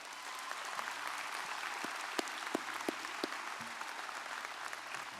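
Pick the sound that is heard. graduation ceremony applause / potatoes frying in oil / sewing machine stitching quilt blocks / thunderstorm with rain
graduation ceremony applause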